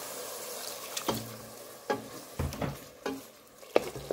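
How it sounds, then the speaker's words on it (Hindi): Masala stirred in a hot pan after a splash of water, with several distinct scraping stirs and bursts of sizzling over a soft, steady frying hiss, heard up close. "बस थोड़ा सा पानी डाल के इस तरह थोड़ा सा मसाला बनाती हूँ"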